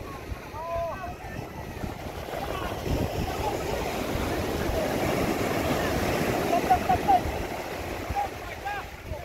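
Large ocean waves surge around a small boat at sea in a steady, loud rush of water and wind buffeting, with faint voices calling out underneath.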